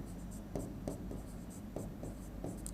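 Marker or chalk writing mineral names on a classroom board, a light scratchy stroke texture with short repeated taps and squeaks at an even pace, close and fairly quiet with no talking.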